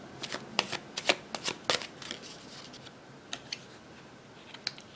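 Tarot cards being shuffled make quiet, close papery riffles and soft flicks in irregular clusters, with pauses between the bursts.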